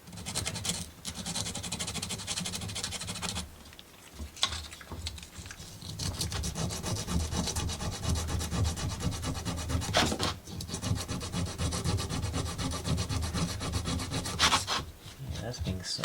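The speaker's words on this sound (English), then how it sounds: "That's being sanded on down." Continuous rasping sandpaper strokes on a hardened baking soda and super glue repair, steady and close, with a brief pause near the start and short breaks around the middle and end.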